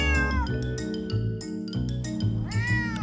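A cat meows repeatedly, several loud, close calls with rising and falling pitch, some drawn out like a caterwaul, over a steady low background hum.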